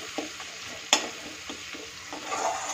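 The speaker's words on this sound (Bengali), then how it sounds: "যা ছিল সেগুলো সবই দিয়ে ভালো মতো নেড়ে চেড়ে নেব।" Ground cumin and coriander get stirred in a frying pan over low heat, a soft, steady sizzle broken by a few sharp scrapes and clinks of the spoon against the pan.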